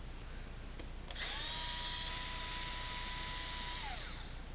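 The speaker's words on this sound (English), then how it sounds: "It's a low torque drill bit" A small low-torque cordless drill whirs up to a steady whine, holds for a few seconds, then winds down while removing screws from a Denon DN-MC6000 controller, close by with no talking.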